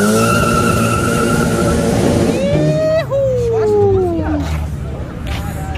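A city bus on Avenida Europa revving hard with a rising engine whine and squealing tires, loud and close, with people talking and shouting over it.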